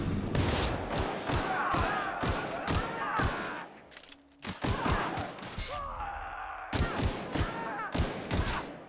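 Rapid bursts of gunfire in The Outer Worlds, loud and dense, in clustered volleys with a short lull midway, overlaid with game music and a voice speaking in places.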